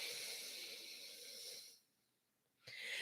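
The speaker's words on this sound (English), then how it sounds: "basically I'm breathing out for 8." A slow, steady breath pushed out through the mouth as a soft close hiss, then a brief pause before another hissing exhale begins.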